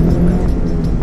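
Honda CR-Z Mugen RZ accelerating with S Plus boost engaged, a steady, loud engine drone and low rumble from inside the car, continuous with no break.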